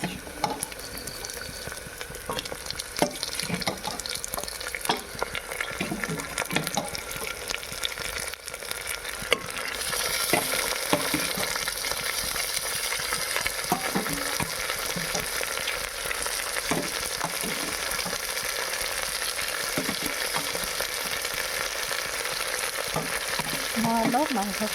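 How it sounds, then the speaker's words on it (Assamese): Goat meat frying in a pan with onion, ginger and garlic, a steady loud sizzle that swells around the middle and holds on, with occasional stirring scrapes and no talking. "এয়া মাংসখিনি দি দিলোঁ"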